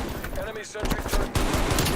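An enemy sentry turret fires in a video game, a rapid burst of automatic gunfire with dense repeated cracks, loud and close, pausing briefly before resuming, with a voice talking over it.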